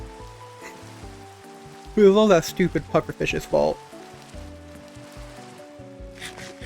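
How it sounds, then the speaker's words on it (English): Rain falls in Minecraft as a steady, soft patter under background music, while a person speaks briefly partway through. "And now it's raining."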